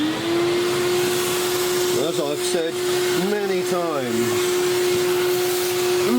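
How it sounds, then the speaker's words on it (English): A vacuum cleaner hoovers small kitchen timer kit parts before spray painting, giving a steady, loud, close whine that runs unbroken throughout while someone talks over it. "hoover, hoover, hoover"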